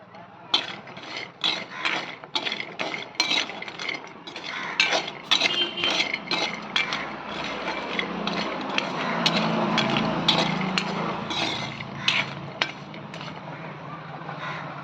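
Cashew nuts roast in a pan while being stirred, producing a busy, close rattle of hard clicks and clinks in uneven bursts, with a low murmur building in the background partway through.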